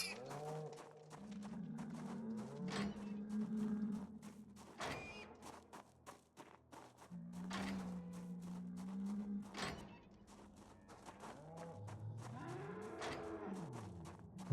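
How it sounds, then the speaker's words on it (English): Many cows on a farm low and moo in long, overlapping calls, some near and loud, others farther off, with no talking. "It was just a whole bunch of cows."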